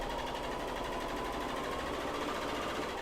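Serger or coverstitch sewing machine running at speed, a continuous fast mechanical whir and rapid needle clatter at an even rhythm, close by and fairly quiet, with no voices.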